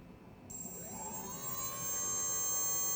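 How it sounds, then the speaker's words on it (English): A quadcopter drone's third motor spins up, a faint whine that rises in pitch and settles into a steady high tone over a low hum. "And we're on motor number 3 now."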